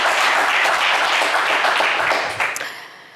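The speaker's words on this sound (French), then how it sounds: "Donald, on vous applaudit bien fort." A studio audience applauds a game show contestant, dense steady clapping filling the room before thinning out and fading toward the end.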